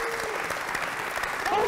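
A round of applause from the audience at a live-streamed OzGrav science event for National Science Week, steady and continuous throughout, with faint voices mixed in underneath.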